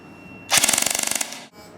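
Airsoft electric gun with a 385 FPS spring, GMP 120 motor and 8mm bearings on a 9.6 volt battery firing one rapid full-auto burst of about fifteen sharp, evenly spaced cracks lasting under a second, close and loud, with no talk.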